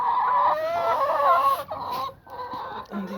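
Young hens clucking nearby in a continuous run of chatter with short gaps, a few calls rising above the rest.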